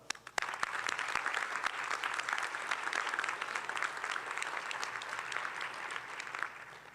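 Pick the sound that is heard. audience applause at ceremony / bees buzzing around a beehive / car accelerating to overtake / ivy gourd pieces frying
audience applause at ceremony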